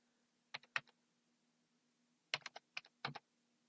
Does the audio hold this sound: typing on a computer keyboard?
yes